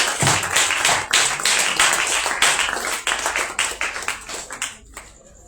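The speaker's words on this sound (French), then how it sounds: "Sous vos acclamations," Conference audience applauding at the opening of a prophetic Purim conference, a dense, sustained burst of many hands clapping that carries on steadily for several seconds before thinning out and fading near the end.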